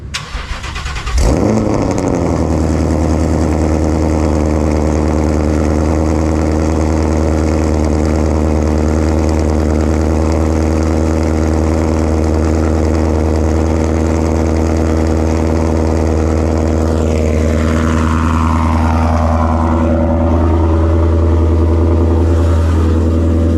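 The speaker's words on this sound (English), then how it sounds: "so that you guys can hear just how loud this car is" A loud car engine, running after a starter solenoid swap, fires up and settles into a steady, heavy idle, with revs rising and falling toward the end, close and continuous throughout.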